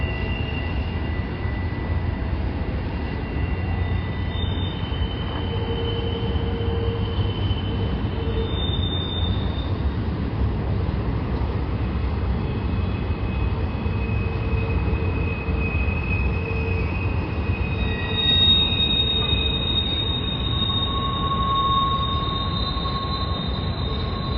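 Freight trains, a Union Pacific stack train, a BNSF stack train and a manifest, rumble through Cajon Junction in steady, continuous roar with long wheel squeals drifting in and out over the rolling clatter.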